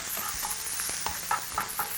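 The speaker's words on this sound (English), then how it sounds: "So proceed to mix your bacon in the pan." Chopped bacon stirred and fried in a pan with a slotted spoon, giving scraping stirs and soft crackling sizzle in short bursts, close and moderately loud with no talking.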